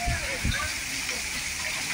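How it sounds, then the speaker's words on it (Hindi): A strong windstorm with rain in Lucknow: a constant broad roar and hiss of wind and rain, with a few low buffeting gusts near the start, and a voice faintly present. "इतनी तेज हवा चल रही है"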